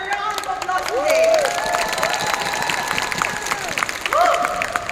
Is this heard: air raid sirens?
no